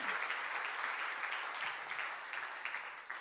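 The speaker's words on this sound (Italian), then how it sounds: "fategli un applauso" Crowd at a Lega political rally in Friuli Venezia Giulia applauding steadily, dense clapping that fills the whole stretch and tapers slightly at the end, with no voice over it.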